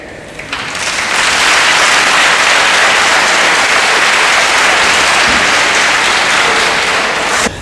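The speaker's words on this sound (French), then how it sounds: "d'applaudir pour le président Talon" A large audience applauds President Talon with loud, sustained, dense clapping that swells after a brief start and holds steady before cutting off.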